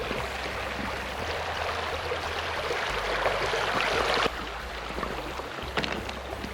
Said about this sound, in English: All right, we'll see if we can make it through the rapids.